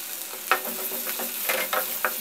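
Curry leaves drop into a pan of fish curry and set off a sizzle. A few sharp crackles and spits sound over a continuous frying hiss, and there is a light stirring clatter. Nobody speaks.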